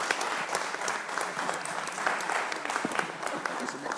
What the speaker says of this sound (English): how about a round of applause for these great ladies?